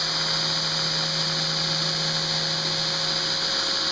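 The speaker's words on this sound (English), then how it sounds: "I'm doing this to show off the grinder." TW-90 belt grinder with a flat platen running steadily, a continuous close whine with a high-pitched hum and no pauses, and no speech.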